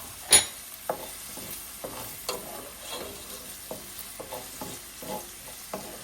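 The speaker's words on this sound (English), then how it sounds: "So first we're gonna start with frying up some onions." Onions fry in a pan with a low, steady sizzle, broken by soft irregular scrapes and knocks of stirring, fairly quiet and close.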